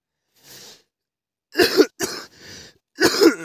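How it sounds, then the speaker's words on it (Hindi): A man coughs four times in close succession in a quiet winter forest camp, each cough loud and harsh with short gaps between, the last two heavier and rasping. "खांसी है कि ना ठीक होने का नाम ही नहीं ले रही।"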